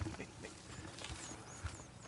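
Horses strain and step while pulling in a Red Dead Redemption 2 frontier scene, with faint hoof clops and shuffling under a quiet outdoor ambience and murmured talk.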